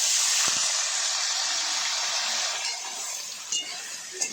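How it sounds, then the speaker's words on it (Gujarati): Onions hit a hot pan of okra for bhindi masala and sizzle with a loud, steady frying hiss that eases slightly toward the end, with a few faint clinks. "તેમાં ડુંગળી નાખી દઈશું આ રીતે શેકાવા માટે।"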